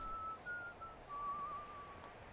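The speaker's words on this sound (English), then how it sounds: "Please, no whistling." Faint whistling in the Medieval Dynasty video game, a thin wavering tone broken into short phrases over low background noise.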